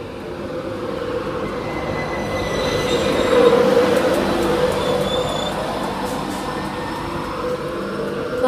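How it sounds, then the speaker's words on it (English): A Virgin passenger train from King's Cross to Edinburgh pulls into platform 2 at Northallerton station, a loud, steady rumble of wheels and carriages that swells near the middle, with thin squealing tones from the wheels riding over it. "Now approaching platform 2 at Northallerton will be your 10:55 108 Virgin train service from King's Cross Edinburgh."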